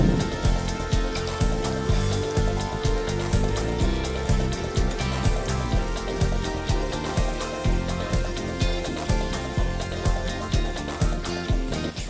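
Dried red chilies frying in hot oil, a dense, continuous crackling sizzle close up and fairly loud, with faint rhythmic background music.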